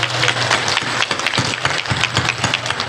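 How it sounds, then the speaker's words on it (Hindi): A church crowd at an Easter celebration claps, a dense burst of applause that stays fairly loud and even across the whole moment. "जोरदार ताली बजा दीजिए।"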